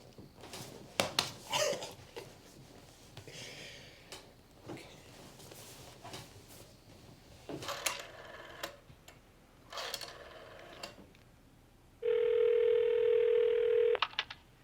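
A telephone rings in short bursts with clicks and gaps between, then a long steady electronic tone sounds as an answering machine picks up; fairly quiet and without voices.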